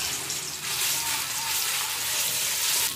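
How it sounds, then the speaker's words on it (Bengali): Dried chillies, onion, tomato and ginger-garlic paste frying in hot oil in a wok, a loud, dense, unbroken hiss close by with no talking. "ফার্স্টে মশলাটা দিয়ে মশলাটা একটু কষিয়ে নেওয়া হবে।"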